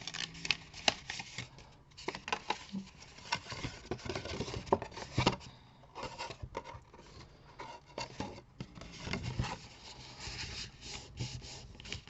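A paper card is creased and folded by hand, giving irregular soft rubbing, scraping and crisp crinkling bursts close by, with no clear talking.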